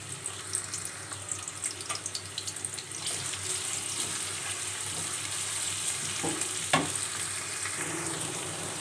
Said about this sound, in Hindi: ऑयल जो है वो गर्म हो चुका है, तो अनियन ऐड करते हैं और अनियन को सौते करेंगे